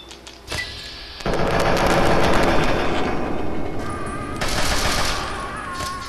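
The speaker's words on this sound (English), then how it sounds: "Shoot him in the head." Gunfire aimed at a super mutant in the game Fallout 3, with a sharp opening shot followed by a dense, sustained roar of rapid bangs and rumbling blasts that swells again near the end.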